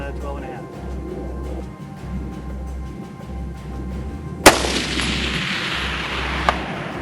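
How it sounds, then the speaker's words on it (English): A single sharp, loud RRA AR-15 rifle shot cracks close by at an outdoor range, followed by a fainter distant report, under steady low wind or engine rumble and some talk. "I'm going to shoot one more just to make sure."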